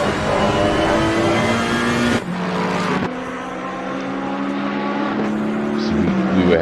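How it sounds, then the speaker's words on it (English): Onboard engine of the number 488 Ferrari GT race car in a racing game at Spa-Francorchamps, a loud sustained drone that steps through gear changes, with revs dropping around two and three seconds before climbing steadily again. "we're riding on board with the Ferrari, car number 488, something, currently 6th place"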